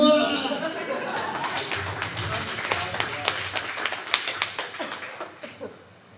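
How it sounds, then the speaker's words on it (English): Small open mic comedy audience applauding a comic named Jacob, a short burst of scattered claps from a modest room that thins into a few distinct, trailing individual claps before fading. "please give a huge round of applause for Jacob"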